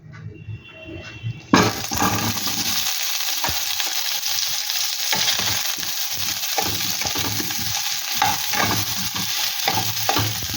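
Boiled potatoes hit hot ghee with a sudden loud sizzle, then fry steadily over low heat with intermittent scraping and stirring, close and without talk.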